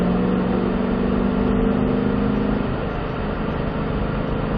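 A race car engine on a NASCAR track droning loud and close as the throttle is squeezed back on, a steady continuous roar that holds through and eases slightly near the end.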